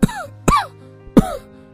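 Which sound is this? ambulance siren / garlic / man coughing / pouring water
man coughing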